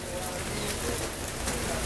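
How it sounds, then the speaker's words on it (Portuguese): Rain falls steadily during an outdoor street carnival, a dense, even hiss of drops hitting surfaces, with faint voices mixed underneath. "Chovendo, ó, agora a chuvinha."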